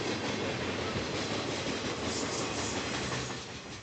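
A freight train rolling past on railroad tracks in western Massachusetts, a loud, steady rumble and clatter of wheels and railcars holding throughout and easing slightly at the end.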